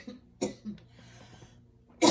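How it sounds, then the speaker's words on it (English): Two bursts of coughing from someone speaking quietly indoors: a short cough near the start and a louder, harsher one at the end, separated by faint low background hum. "Excuse me, I still have a bit of a cough."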